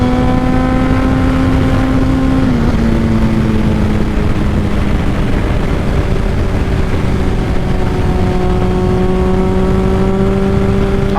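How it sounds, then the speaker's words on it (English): Honda CBR sport motorcycle with a Two Brothers full exhaust, heard from the rider's position as a loud, continuous engine drone that holds steady and dips in pitch slightly partway through. "the fucking exhaust is popping so much"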